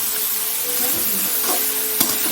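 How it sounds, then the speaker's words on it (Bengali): Cauliflower pieces fry lightly in shallow oil for a Bengali curry, a continuous close sizzling hiss with soft stirring scrapes and one sharp utensil tap. "আলুটা ভেজে রাখলাম এটা বেশি ভাজবো না কপিটা হালকাই ভাজবো"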